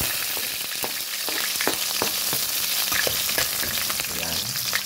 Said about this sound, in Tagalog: Igisa natin ang bawang,